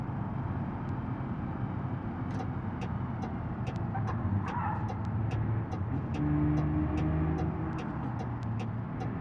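A BeamNG car engine drones at high RPM in fifth gear around 60 mph, a steady loud rumble with rapid ticking clicks running through the middle and end, without speech.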